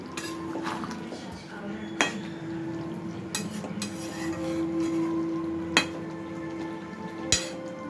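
A metal lid comes off a pot of chicken badam bahari, with several sharp clinks of lid and cookware spaced a second or two apart over a quiet background hum.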